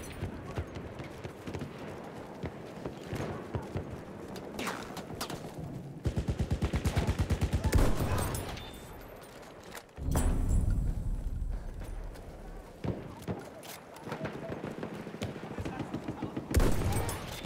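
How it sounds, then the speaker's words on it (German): Bursts of rapid enemy machine-gun fire in a Battlefield 1 deathmatch, in loud stretches broken by pauses, with horse hooves clopping, other battlefield noise, and shouting voices mixed in. "Feindliches Maschinengewehr!"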